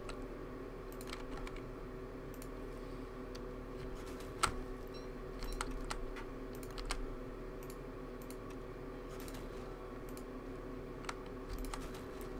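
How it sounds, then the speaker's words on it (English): Computer keyboard typing, quiet and steady, with scattered clicking keystrokes and a few sharper taps over a constant low background hum. "Apparently some people do actually like the keyboard sound"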